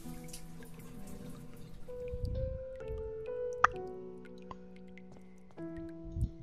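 Water filling a shower tray in a bathhouse in the video game The Last Door, with steady drips and small splashes over sombre background music.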